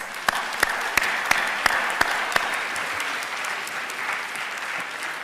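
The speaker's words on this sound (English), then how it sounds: "Let's give them a round of applause." Audience at a Take Back the Night event applauds organizers and survivors: a sustained, even clapping crowd, with a few sharp louder claps near the start standing out close by.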